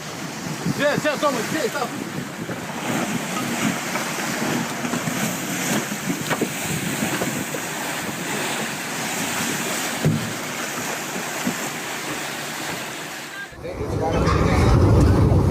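A boat pitching in rough Irish Sea waves, with heavy wind buffeting the microphone and a continuous roar of water, rising to a loud rush near the end; people talk faintly underneath.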